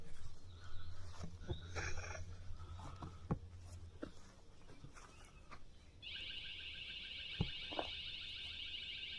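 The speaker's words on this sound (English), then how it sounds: "So that's that prox alarm over there." A truck's proximity alarm sounds outdoors, a steady high electronic tone that starts partway through and holds, over rumbling background noise and scattered knocks.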